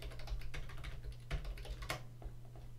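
Keys clatter on a computer keyboard as a short folder name is typed in a Unity project, a quick burst of close, crisp taps over a steady low hum.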